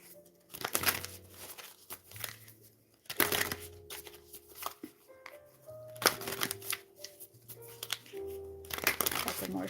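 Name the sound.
shuffling tarot cards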